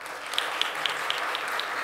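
A congregation applauds during a Korean Sunday church service, a steady wash of many hands clapping with faint rhythmic accents, moderately loud and continuous, with no voices over it.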